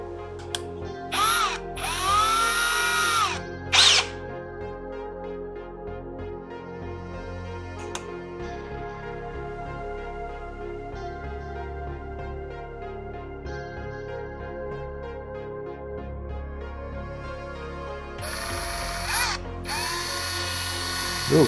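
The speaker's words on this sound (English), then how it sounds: "Get a Harbor Freight special drill here." A cheap Harbor Freight power drill boring a 7/64-inch hole while building a 3D printer enclosure, with loud whining bursts at the start and end and a steady motor drone running through the middle.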